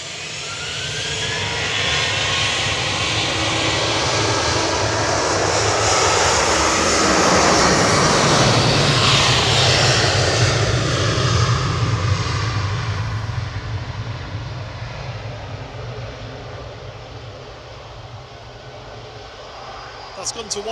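A Boeing 737-800 jet on flight 3126 to Marrakesh takes off at Manchester Airport, a loud broadband engine roar building over the first seconds, peaking mid-clip and slowly receding, with a voice talking over it.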